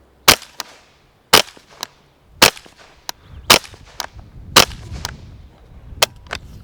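A suppressed Ruger 10/22 rifle with an integral YHM barrel fires subsonic .22 rounds: about eight sharp, close cracks, each followed by a quick mechanical clack of the action, spaced roughly one second apart.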